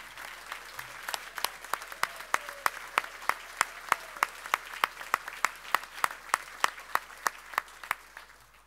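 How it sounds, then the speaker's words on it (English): Applause at a heritage awards ceremony, fairly faint and sparse, with a rhythmic series of sharp, distinct claps standing out steadily over a soft background of scattered clapping. "A big round of applause."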